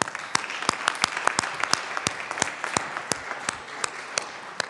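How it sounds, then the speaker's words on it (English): A legislative chamber gives a round of applause to welcome a visiting school group in the gallery, a steady burst of many hands clapping with a few sharp individual claps standing out. "If you could please turn around and give them a round of applause and welcome them for being here."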